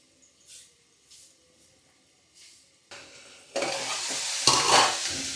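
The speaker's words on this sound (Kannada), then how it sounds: "ಒಂದು ಸತಿ ಹಂಗೂ ಹಿಂಗೂ ತೆಗೆದುಬಿಟ್ಟು ಗೂರಾಡ್ತಿರ್ಬೇಕು ಹಿಂಗೆ" Tomato and onion cooking in a pan, opening with a few faint soft scrapes, then the sizzle and stirring swell sharply into a loud close frying hiss in the second half, with no talking.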